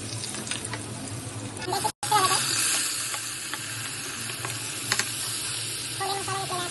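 Ginger garlic paste hits hot oil in a kadhai already holding curry leaves, bay leaf and cinnamon. A loud, steady, close sizzle hisses continuously, broken by one brief dropout near the start.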